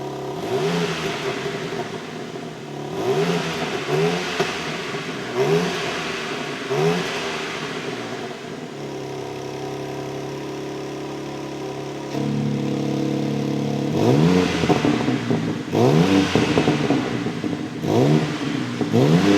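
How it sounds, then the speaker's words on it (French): A BMW M3 G80 Competition engine revs repeatedly with particulate filters muffling the exhaust, rising and falling in loud bursts, then settling into a steady drone at idle before revving hard again, close and dominant. "Ils étouffent très fort le bruit de la voiture."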